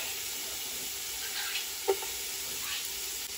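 Chopped garlic and onion sautéing gently in olive oil over low heat, a soft steady sizzle with one brief clink of a utensil partway through and no voices.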